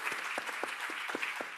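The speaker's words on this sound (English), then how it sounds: "So please give us a bigger clap." An audience claps for student teams in a short burst of steady, close applause.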